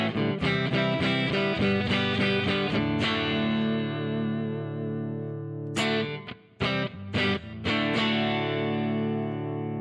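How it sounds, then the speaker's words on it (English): A Stratocaster on its neck pickup plays a clean tone through a Kemper profile of a '57 Tweed Deluxe amp, with a touch of reverb. Strummed chords ring out in quick succession, then a few sharp stabs near the end. No voices. "that's your clean tone. It's a Strat into a net pickup. It's got a little bit of reverb in."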